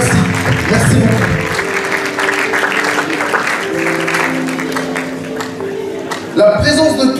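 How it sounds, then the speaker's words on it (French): A church congregation at a Paris praise and worship service applauding the men of God, sustained loud clapping from a crowd with cheering, fading slightly before a final swell. "Nous allons acclamer aussi pour la vie les hommes de Dieu qui sont en ce lieu."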